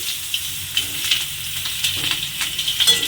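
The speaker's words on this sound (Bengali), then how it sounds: "আলুগুলো দিয়ে একটু হালকা করে ভেজে নেব, খুব বেশি ভাজার দরকার নেই।" Potato pieces fry lightly in oil in a pan, giving a steady soft sizzle with occasional bubbling pops and light stirring clicks, close up and unvoiced.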